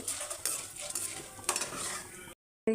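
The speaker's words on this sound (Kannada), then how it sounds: "1 ಟೀ ಸ್ಪೂನಷ್ಟು ಉದ್ದಿನಬೇಳೆ ಕಡಲೆಬೇಳೆ ಹಾಕಿ ಸ್ವಲ್ಪ ಕಂದು ಬಣ್ಣ ಬರೋವರೆಗೆ ಹುರ್ಕೊಳ್ಬೇಕು" Chana dal and urad dal roasting in a pan for instant rava idli: a spoon scrapes and stirs the lentils with light clinks and a soft sizzle, close and fairly quiet, cutting out briefly near the end.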